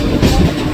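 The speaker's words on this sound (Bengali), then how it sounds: "ট্রেন ঢুকছে এখন" A train pulls into a station in a brief, loud burst of rolling rumble and wheel clatter close by.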